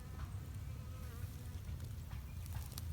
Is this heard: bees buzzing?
yes